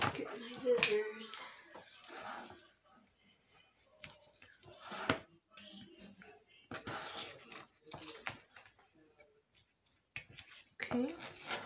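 Snipping and rustling of scissors cutting paper in short bursts, close and fairly quiet, with soft speech in between.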